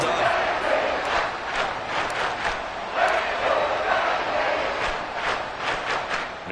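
Stadium crowd in a Madden football video game cheering after a defensive stop, a loud, steady roar of massed voices with swelling bursts of applause-like noise throughout.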